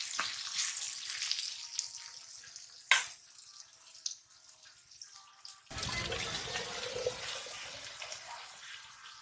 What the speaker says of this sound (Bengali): এটা জল দিচ্ছি